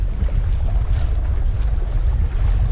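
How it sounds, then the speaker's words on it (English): Strong wind gusts across open water around a boat during UK bass fishing, a loud continuous low rumble of wind buffeting the microphone, with no voices. "That wind is supposed to drop off."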